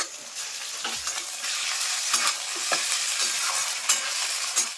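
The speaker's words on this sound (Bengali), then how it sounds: "দেখো আমি আদা রসুনটা দিয়ে একটু ভাজা ভাজা করে নিয়েছি" Ginger garlic paste frying with onions in a pan for a home-style mutton curry, a loud close sizzle with repeated scraping stirs throughout and no voices.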